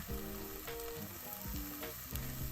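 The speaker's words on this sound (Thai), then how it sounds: "จากนั้นนะคะเราจะเอาเนื้อเนี่ยมาย่างบนกระทะค่ะ ตั้งไฟให้ร้อนเลยนะคะ" Marinated beef steak sears in a hot pan with a loud, continuous sizzle and crackle, close by, with occasional stirring or shifting sounds.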